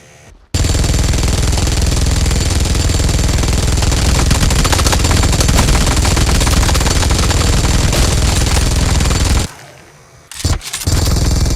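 Sustained loud machine gun fire in PUBG Mobile zombie mode, a dense continuous burst running for about nine seconds before cutting off, then a short final spurt.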